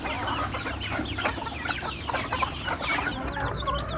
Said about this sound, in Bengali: সন্ধ্যায় মুরগি ছাড়লো